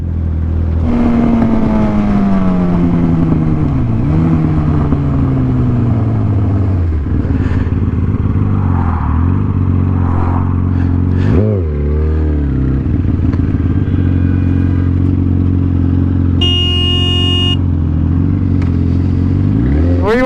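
A Yamaha R1 sport bike ridden on its first ride, the engine droning loudly and continuously, with its pitch sliding down and up through gear changes and revs and a brief throttle blip midway, plus wind noise and a short electronic beep near the end.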